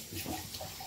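Tap water runs into a sink during washing up after baking chocolate chip cookies, a short, steady splashing rush that sounds close by.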